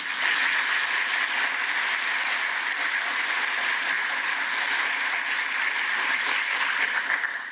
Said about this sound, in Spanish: permítame que le brindemos un fuerte aplauso